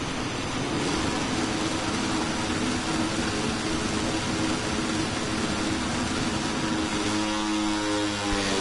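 Moto3 racing motorcycles leave the start of the Valencia Grand Prix in a wet, rainy weekend, making a loud and continuous roar of engines and wind. Rising, revving engine tones come through near the end.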